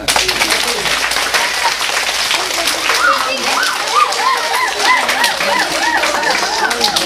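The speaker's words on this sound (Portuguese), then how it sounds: "nós podemos já dar uma salva de palmas" An audience applauds a book's author at a school gathering: dense, steady clapping fills the whole stretch, with chirpy whistle-like calls rising over it toward the end.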